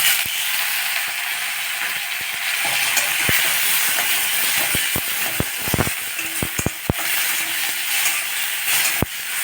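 Onion and garlic sautéing in oil for a mudakathan soup, a steady hiss of frying broken by a run of sharp ladle taps and clicks against the pan, with no one talking.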